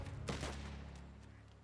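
Gunfire from the first weapon in the video game Last Train Home: a quiet burst of a couple of shots near the start, then a fading rumble with faint later reports, at low level.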